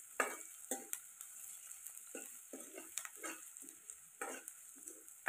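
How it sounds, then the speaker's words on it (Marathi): Onion frying in oil in a pan over a wood-fired stove, a soft steady sizzle broken by occasional scraping stirs and light clinks, close and fairly quiet with no talking. "कांदा आपल्याला छान लाल सोनेरी कलर येईपर्यंत तळून घ्यायचा आहे।"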